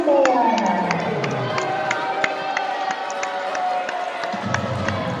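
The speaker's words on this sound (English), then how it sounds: "Why are you applauding?" A wrestling arena crowd cheers and claps for the champion after the match, a loud mix of shouting and scattered claps that holds throughout.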